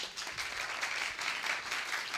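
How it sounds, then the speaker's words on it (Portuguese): A round of applause from an audience at a biology talk event, a steady wash of clapping that stays fairly even and moderately loud from start to finish. "Uma salva de palmas para ela"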